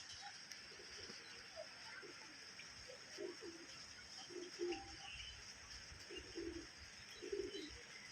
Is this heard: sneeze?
no